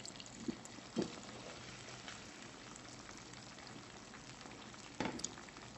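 Chicken frying in a pan, a soft, steady crackling sizzle throughout with a few small pops and scrapes, quiet and close with no talking.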